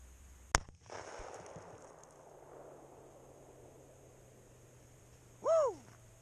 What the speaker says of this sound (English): we'll be shooting the Hornady 300 grain HXT